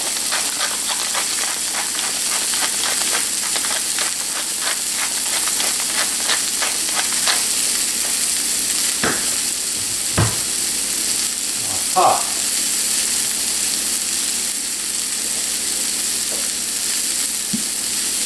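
Onion and garlic frying in a pan for a veal recipe, giving a steady, close sizzle with stirring clicks throughout and a few louder clatters partway through.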